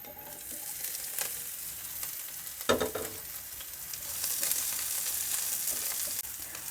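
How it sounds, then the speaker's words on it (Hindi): A potato mixture with cumin fries in hot oil, a close, steady sizzle broken by a few louder stirring scrapes. "ऑयल को डाल दिया, हल्का सा गरम करेंगे, जीरा डाल देंगे, आलूओं का मिक्सचर डाल देंगे"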